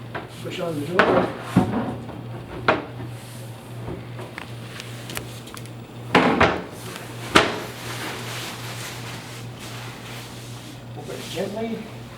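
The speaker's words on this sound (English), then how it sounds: "Now we're ready to put on the door. Push on the door." A wooden pantry wall cabinet door is pushed onto its hinges during assembly, giving a few knocks, clicks and wooden taps over a steady low hum, with a voice talking between them.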